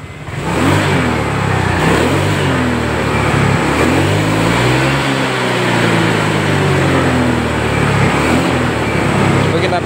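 Honda Vario 125 scooter with a delayed throttle response, its engine revved steadily and loudly up close for the whole stretch, pitch rising and falling with the throttle.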